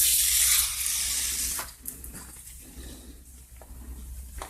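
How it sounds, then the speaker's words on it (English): Cleaner sprayed into the bar channel of a Poulan P3314 chainsaw gives a loud, close hissing burst for the first second and a half, then fades to softer handling noises. "We'll start by just spraying this channel out here"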